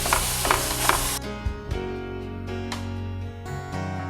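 Grated coconut roasting with ground betel leaf paste in a pan, a bright sizzle that quickly quiets into intermittent scraping and clinking strokes of stirring.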